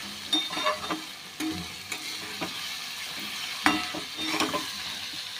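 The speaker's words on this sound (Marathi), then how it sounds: "कांदा छानपैकी आपण परतून घेऊया" Chopped onion sautés in a pan for chana masala, with a soft steady sizzle broken by intermittent clinks and scrapes of a spoon stirring. The sound is close and moderately quiet, with no voices.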